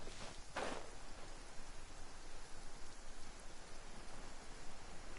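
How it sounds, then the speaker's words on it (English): Steady rainfall in the Genshin Impact video game, a continuous even hiss of falling rain with a brief brighter rustle near the start and no talking. "Ooh, it's raining."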